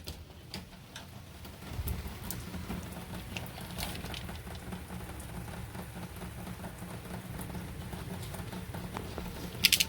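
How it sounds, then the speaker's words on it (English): Steady rain patters on a surface outdoors, a continuous close wash of drops with scattered sharper ticks and no one talking. "It is still raining."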